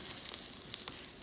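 A soldering iron sizzles and hisses softly on stained glass solder, a faint close crackle with a few tiny pops over a brief moment.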